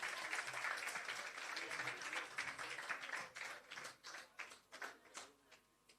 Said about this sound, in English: Give Brandon a round of applause.